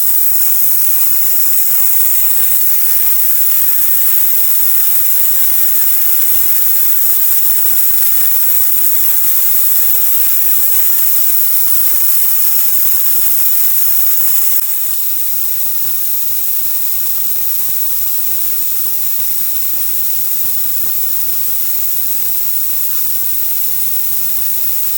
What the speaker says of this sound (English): Ultrasonic, do your thing.